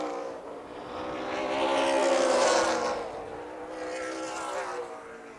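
Super late model race cars roar around Toledo Speedway in a Gold Cup outlaw race, engines swelling loudly as the pack passes close by, then easing off and building again.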